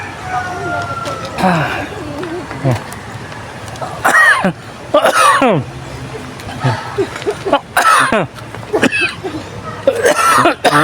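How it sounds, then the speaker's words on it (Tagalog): Several bursts of coughing and throat clearing from a breathless hiker heading into mountains come in uneven spurts, close to the microphone, with brief pauses and a faint background hum. "Inuubo pa ako."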